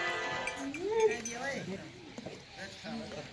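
A goat at a goat farm gives a few wavering bleats at moderate distance amid light clinking, with someone talking around the calls.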